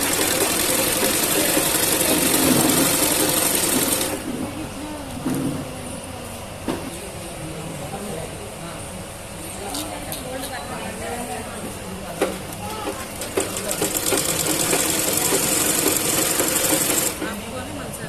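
A sewing machine stitching a frock for a child of seven to eight years runs with a steady mechanical whir, loud at the start and end and quieter in the middle, while people talk nearby.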